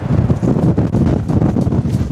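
Strong, gusty wind buffets the microphone on a cold beach in Iceland, a dense continuous roar with rumbling low gusts and no voices, loud and steady throughout.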